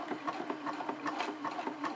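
A sewing machine stitches a small zigzag buttonhole in a steady, rapid mechanical rhythm of needle beats, close and moderately quiet.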